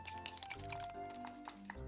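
A spoon stirs mayonnaise and soy sauce in a bowl, giving a few soft scrapes and light clinks against the bowl, quiet and close.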